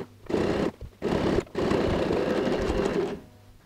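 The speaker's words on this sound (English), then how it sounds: "We've sewn in the 3 sides." Sewing machine running in bursts as it stitches the three sides of a pyramid-style handbag, with short pauses between runs and a long final run, loud and close with no talk.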